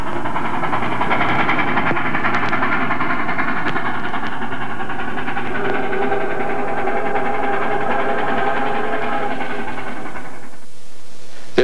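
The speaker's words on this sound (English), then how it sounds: "The Camelback is backing down to pick up an inbound commuter." Camelback steam locomotive backing down to couple onto an inbound commuter train at Dunellen, New Jersey: a loud, continuous rumble with rhythmic clanking and hissing that holds for about ten seconds before cutting off.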